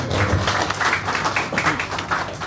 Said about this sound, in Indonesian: Tepuk tangan dulu untuk Pak RW